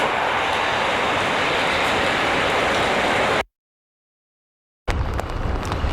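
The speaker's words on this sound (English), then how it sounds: "Heavy rain showers continuously pounding the South Jersey region for hours" Heavy rain pounds steadily in South Jersey during a severe storm with strong wind gusts and flooded roadways, a loud continuous wash that cuts to silence partway through and then resumes.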